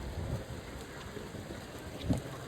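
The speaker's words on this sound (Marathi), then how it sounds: "तर पाऊस खूप जोरात आहे" Heavy monsoon rain pours over Chinchpokli, Mumbai, during a Ganesh idol arrival procession. A steady, close downpour hisses throughout, with a brief low rumble of thunder near the end.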